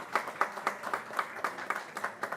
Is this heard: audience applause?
yes